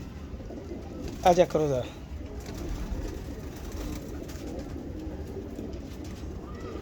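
Pigeons give a short burst of cooing close by, then settle into quiet ambient background while someone speaks briefly.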